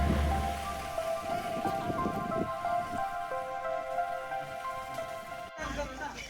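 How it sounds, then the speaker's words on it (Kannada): Light rain falls at Talakaveri temple in Coorg: a soft, continuous patter with sustained whistling tones above it, a voice briefly present, and a sudden break near the end. "ಸಿಕ್ಕಾಬಟ್ಟೆ ಮಳೆ, ಸಿಕ್ಕಾಬಟ್ಟೆ ಏನಿಲ್ಲ, ಸ್ವಲ್ಪ ಇದೆ"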